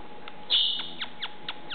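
A pet bird calls close by with a single loud shrill note followed by several short, fainter chirps spaced roughly a quarter second apart, over a quiet room.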